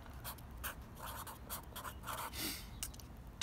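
Handwriting on paper: a pen or pencil scratches in short, uneven strokes with brief pauses between words, close and quiet.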